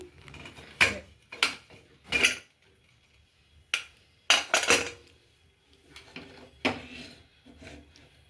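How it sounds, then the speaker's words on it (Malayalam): A pressure cooker of Onam kootu curry is opened after cooking: a handful of sharp metallic clanks and clatters of the lid and vessel, close and fairly loud, spaced apart with quiet gaps and no talking. "നമുക്കിനി കുക്കർ തുറന്ന് നോക്കാം പത്ത് മിനിറ്റ് കഴിഞ്ഞു"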